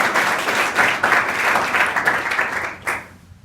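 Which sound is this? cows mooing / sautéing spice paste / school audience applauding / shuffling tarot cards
school audience applauding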